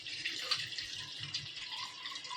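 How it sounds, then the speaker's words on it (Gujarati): Water running into a tub in a home, a faint, steady splashing hiss with light dripping, close and continuous with no talk. "હું છે ને ટોપડીમાં પાણી ભરી લઉં"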